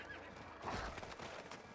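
A horse whinnies and neighs in Diablo 4, a clear mid-level call that swells briefly near the middle of a short stretch of game ambience, with no talk.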